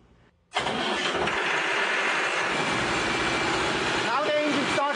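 A turbocharged diesel engine generator running on biogas from manure cranks and fires, then settles into a loud, steady, rough roar that continues without a break.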